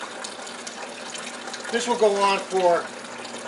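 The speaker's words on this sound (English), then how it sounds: "It's doing a slow rinse and it's rinsing out all of the salt into the bucket." Water softener on a slow rinse cycle draining salty rinse water into a bucket, a steady close trickle and splash that swells toward the end while someone talks over it.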